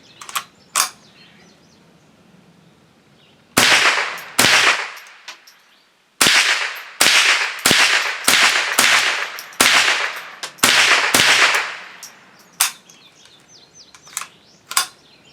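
A Savage Model 62 .22lr semi-automatic rifle fires in rapid strings of sharp cracks, about a dozen shots in quick bursts with short pauses and echo, loud and close.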